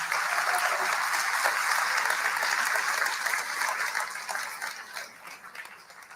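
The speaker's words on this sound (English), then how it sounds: "So another round of applause for these wonderful men." Audience applause at a livestreamed event in Alberta, a dense steady clatter of many hands that holds strong for several seconds, then thins out and fades toward the end.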